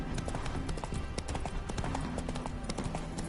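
Horse hooves clip-clop in The Witcher game, a steady quick rhythm of close, distinct hoof strikes on hard ground continuing throughout.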